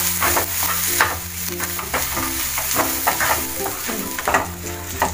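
Onions sizzle over low heat in a pan for mutton curry while a utensil scrapes and stirs in quick repeated strokes, with a low steady hum underneath.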